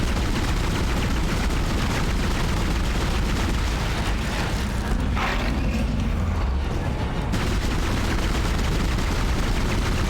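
Sustained, dense gunfire from the Dead Space video game, a continuous close barrage of rapid shots and mechanical clatter with no pauses and no talking.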